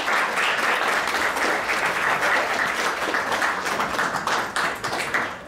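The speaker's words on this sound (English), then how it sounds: "Let's give a warm round of applause for Sarah Maymi" An audience at the New York Browning Society's high school poetry contest in New York City applauds a winner with dense, steady clapping that holds for several seconds, with no talking.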